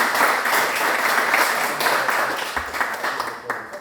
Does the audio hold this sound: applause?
yes